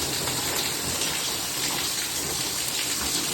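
Heavy storm rain pours in a dense, steady hiss of drops hitting the ground and surfaces, loud and close with no voices.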